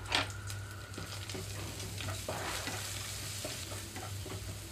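Ginger garlic paste and spices such as garam masala fry in a pan for aloo bonda filling, giving a soft, even sizzle with occasional spoon scrapes and a faint background hum.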